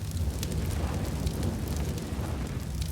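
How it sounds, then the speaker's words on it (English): An incendiary grenade burns in Counter-Strike on the Inferno map during a pro match, giving a steady, loud roaring crackle with low rumble and scattered pops throughout. "He's going to drop that incendiary to slow down any further assault"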